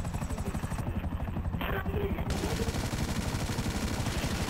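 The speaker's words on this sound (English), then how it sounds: "is there a helicopter inside my blimp?" A helicopter in Grand Theft Auto V thumps with fast, steady rotor beats, loud and close, under a burst of gunfire and someone talking.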